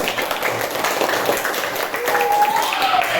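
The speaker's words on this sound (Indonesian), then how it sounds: "Berikan tepuk tangan yang meriah untuk kita semuanya." A class claps for the group presentations during a teaching lesson, a broad wash of applause running throughout with a voice talking over it.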